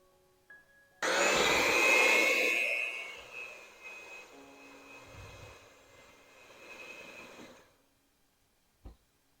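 An electric mixer whirs loudly into steady cake batter for a Steen's syrup cake, starting abruptly, then easing to a lower, uneven drone before stopping, with a short clunk afterward.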